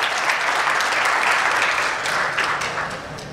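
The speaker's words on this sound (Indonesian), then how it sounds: "Tepuk tangan untuk kita semua." An audience at a corporate procurement conference in Indonesia claps together, a steady, full wash of applause that holds level and then tapers slightly at the end.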